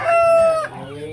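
A fighting rooster crows close and loud in a single strained call, then drops into a few low clucks, with light voices in the background.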